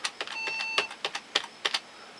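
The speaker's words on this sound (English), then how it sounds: "So you continuously hit your F8 key as your computer is starting up." A computer keyboard's F8 key tapped over and over during startup, a quick run of about a dozen sharp, close clicks at an uneven pace, with a faint electronic whine underneath.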